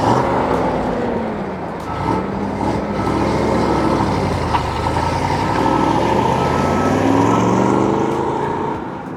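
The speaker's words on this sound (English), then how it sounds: "There goes Jake in a lovely 73 red Corvette. Big block time." A red 1973 big block Corvette pulls away, its deep engine rumble steady and fairly loud throughout, holding a continuous broad roar with a slight swell near the end.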